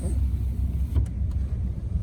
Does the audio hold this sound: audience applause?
no